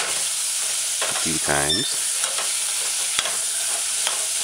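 Spoon stirring chickpeas and saltfish stew in a hot pan, a steady sizzle and frying hiss running throughout with a brief scraping swirl in the middle; a voice speaks briefly over it.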